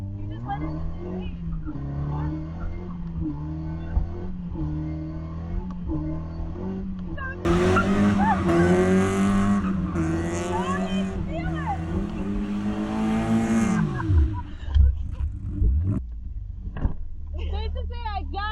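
A car revs hard and skids with squealing tires on a street, the engine droning before a louder burst of screeching rubber mid-clip, while excited voices talk and shout over it.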